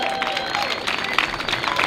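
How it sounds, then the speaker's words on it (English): A street crowd at the Edinburgh Fringe claps and cheers for a violinist after a performance, with lively mixed applause, a few whoops and a voice calling out above it. "round of applause for Shiki on violin"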